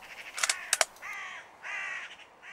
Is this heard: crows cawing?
yes